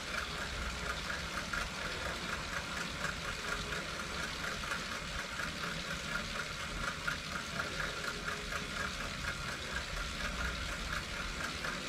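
A Wahoo Kickr Core direct drive smart trainer spinning under pedalling, a steady whirring hum with a rhythmic pulsing texture, loud and close for the whole stretch with no talk.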